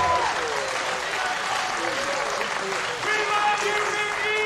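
A wrestling crowd at an IWA Mid-South King of the Deathmatches 2006 show applauds steadily, with dense clapping filling the space throughout while voices call out over it.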